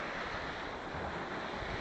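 Ocean waves break on a shore in a constant, loud roar of surf, with wind buffeting the microphone and no distinct individual crashes.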